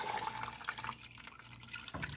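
Beef broth poured into an Instant Pot over a roast with vegetables: a steady, soft liquid splashing and trickling for a couple of seconds, close and fairly quiet, with no talking.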